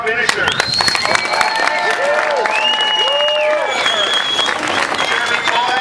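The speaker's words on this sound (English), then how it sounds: "a big round of applause for your three top finishers" A crowd at a podium ceremony after the 2007 Toyota 200 race at Willow Springs claps and cheers for the three top finishers, steady applause mixed with whoops and whistles while an announcer talks over it.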